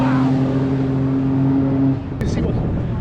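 Race car at a time attack event rolling into the pit lane: a loud, steady close engine drone with a strong low hum holds, then drops off as the car slows, leaving a rougher idle rumble with a brief high clank.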